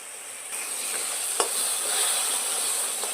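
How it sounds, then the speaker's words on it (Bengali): Masala with poppy seed and cashew paste being stirred in a wok, a soft continuous sizzle with occasional scraping strokes of a spatula, fairly quiet and close. "যেহেতু কাজু দেওয়া আছে, ওই জন্য কিন্তু অনবরত এবার মশলাটাকে নাড়তে হবে"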